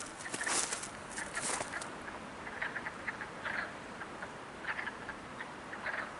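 Scattered chirping calls of frogs in a wet marsh at a moderate distance, repeating in irregular bursts over a hissy outdoor background.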